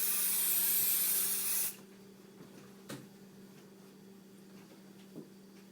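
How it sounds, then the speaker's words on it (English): A short, steady hiss of an aerosol spray can lasts under two seconds, then stops abruptly, leaving a quiet room with a couple of faint taps. "So just give it a quick spray."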